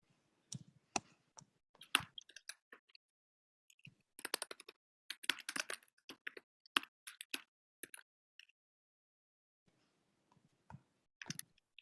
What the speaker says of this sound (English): we hear someone typing